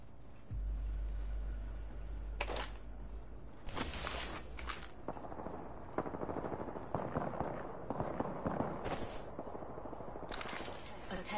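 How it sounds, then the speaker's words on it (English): Apex Legends gunfire, bursts of sharp shots and rapid firing scattered across the clip amid a busy, noisy game soundscape. "all you hear is gunshots."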